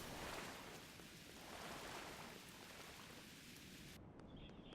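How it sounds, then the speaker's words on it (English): Rain falls in a video game as a dense, even hiss of drops that continues unchanged and then cuts off abruptly near the end. "Yeah, lots of rain."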